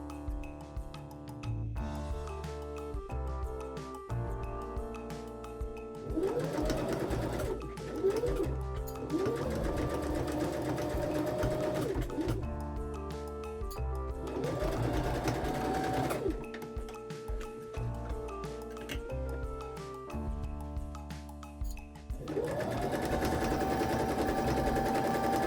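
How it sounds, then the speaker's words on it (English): A sewing machine stitching darts on a pencil skirt whirs in repeated bursts of rapid mechanical chatter separated by short pauses, with tonal sounds layered underneath. "First we start by pinning and sewing all the dots."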